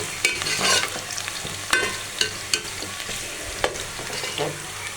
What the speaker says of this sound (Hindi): अभी हो रहे हैं फ्राई, अभी इनका कलर निकल रहा है।